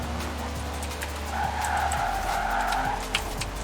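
A car in a racing video game drifts, and the tires skid and squeal for a couple of seconds over a steady engine drone, loud and close.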